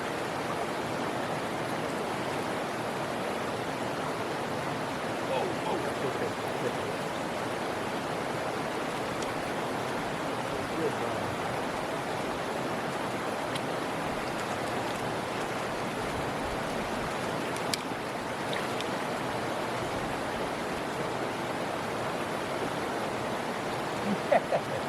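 Steady broadband rush of a creek flowing through Southern Appalachian woods, continuous and even for the whole stretch with no break in level, close by and fairly loud, no voices heard.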